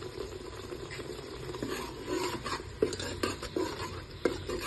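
Mutton frying in a pan and being stirred with a utensil, a soft steady sizzle with scraping and occasional metallic clinks against the pan, fairly quiet and close.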